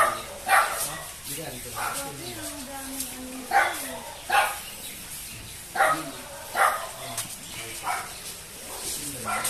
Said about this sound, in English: Maingay aking doggy-doggy.